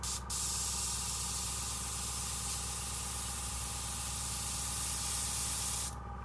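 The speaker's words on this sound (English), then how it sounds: "Let the spraying commence" An airbrush spray-paints a 1/56 scale Panther tank model with masked tracks. It gives a loud, continuous hiss that runs steadily for about six seconds and stops short at both ends.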